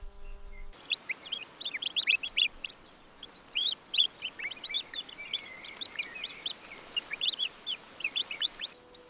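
Many baby chicks peep in a continuous, busy chorus of high, rapid chirps, close and fairly loud, as they are lifted one by one from a damaged nest during a wildlife rescue.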